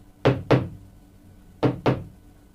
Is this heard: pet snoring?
no